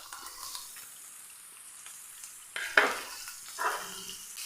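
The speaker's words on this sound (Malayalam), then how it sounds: "നമ്മുടെ സവോള ചേർക്കാം" Sliced onions drop onto browned ginger and garlic in a hot pan, a sudden loud burst of sizzling and frying that swells then eases, with a second stirring flare shortly after.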